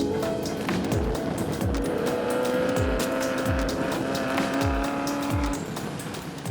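A Ferrari F40 drives through New York City streets at 3 a.m. Its steady, loud engine drone is broken by a regular series of low whooshing thumps, with no voices.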